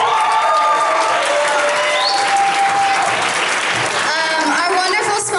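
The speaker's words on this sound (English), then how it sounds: "Let's give them a round of applause." An audience at a school stage production of Moon Over Buffalo applauds loudly and steadily, with scattered cheers and voices mixed into the clapping.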